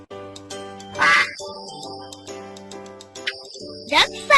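Two bursts of duck quacking, one near the start and a louder pair toward the end, set over a steady musical background in a children's nursery maths lesson.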